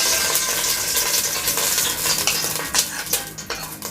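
Ghee spooned into a vessel for payasam: continuous sizzling and frying with scraping and clinking of a utensil against the pan, close and fairly loud, no talking.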